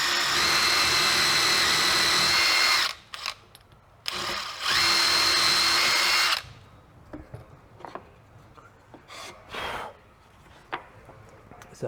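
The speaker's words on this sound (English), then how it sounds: "Now I'm going to drill one end" A power drill whines steadily through wood in two sustained bursts while drilling the end of a sharpening jig, then stops, leaving scattered clicks and handling noises.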